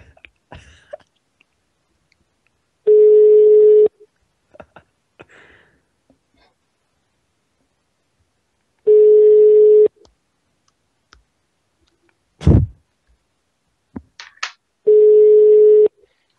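A telephone busy tone sounds after the caller has hung up, repeating as three separate one-second bursts spaced several seconds apart, with faint clicks and a sharp knock in the quiet gaps.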